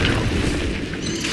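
An Incendio fire spell is cast in the Hogwarts Legacy video game, a brief, dense, booming whoosh of flame with a rumbling low end lasting just over a second.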